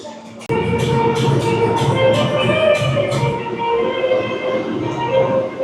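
A New York subway train rumbles loudly and steadily close by, with a sudden onset, metallic wheel tones and rhythmic clatter carrying on throughout.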